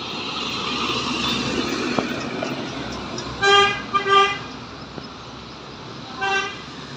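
A multi-tone telolet musical horn on a bus blares in short bursts over steady traffic and engine rumble, with a third burst a couple of seconds later.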